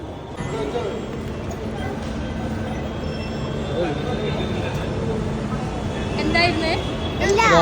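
A Bangalore metro train hums and rumbles steadily while people talk nearby, the noise swelling toward the end with a rising, whining squeal.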